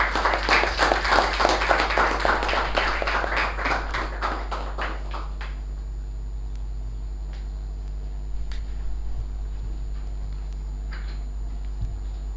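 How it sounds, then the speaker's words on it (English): A room full of people at a Toastmasters club meeting claps loudly to welcome the club president. The applause tapers off over about five seconds into a quiet room hum with a few stray claps. "With a big round of applause, please welcome our President"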